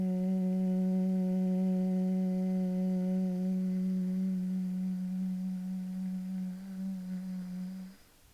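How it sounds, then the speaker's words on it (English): A single person hums on the exhale during a yin yoga breathing practice. The steady, resonant hum is sustained for about eight seconds, then tapers off and stops near the end, with no other sound. "Humming as you exhale, letting it resonate in the heart."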